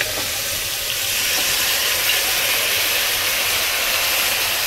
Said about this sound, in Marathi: आता ह्याच्यामध्ये घालायचं आहे आपल्याला स्वच्छ धुतलेलं मटण। बघा असा तडका चांगला बसला पाहिजे।